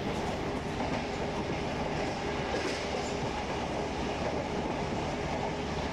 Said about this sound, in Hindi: मतलब इजीली 130 कर देगा ये ट्रेन, मतलब अपना लोकोमोटिव